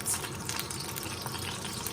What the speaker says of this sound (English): Now you hear that sizzle? You got to have that when you're cooking with a wok.